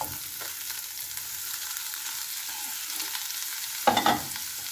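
Onions frying in a pan give a steady soft sizzle that swells briefly near the end as they are stirred.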